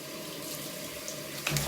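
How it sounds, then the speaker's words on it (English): Steady water from a tap soaks a mangy dog during a medicated bath, a continuous close splashing flow with a small knock near the end. "Get these back legs again and we'll get you soaked up."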